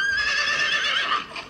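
A horse neighs in a long, loud, drawn-out whinny close by, the cry holding strong before tailing off near the end, with no talk over it.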